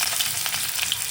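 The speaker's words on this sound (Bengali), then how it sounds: "এতে দিয়ে দেব পেঁয়াজ কুচি" Chopped onion frying in hot oil with dried red chilli and cumin seeds, a steady loud sizzle with faint crackles, close and continuous with no voices.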